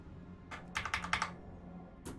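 Rapid clicking on a gaming PC keyboard, heard close up in two short bursts separated by a brief pause, clear and alone without talk.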